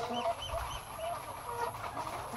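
A Kabir rooster clucks in a quick series of short, rhythmic calls. It is fairly faint and sits over a low background hum, with no voices.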